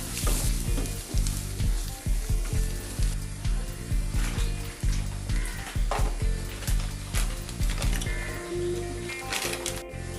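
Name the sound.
stirring and sizzling food in a pan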